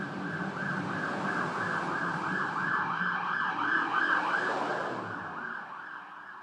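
A siren wailing in a rising and falling pattern outside, heard through an open door as a vehicle passes. It is moderately loud and swells, then fades toward the end, with no talk.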